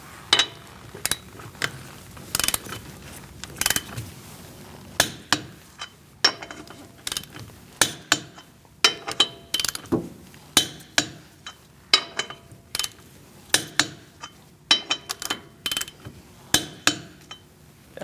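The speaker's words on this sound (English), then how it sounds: "Using a 19mm socket, we're going to torque our wheels to 100 foot-pounds." A 19mm socket tightens wheel lug nuts in a star pattern on a 2016-2019 Chevrolet Cruze, producing repeated sharp metallic clicks and clinks in irregular bursts, close and fairly loud, with no speech.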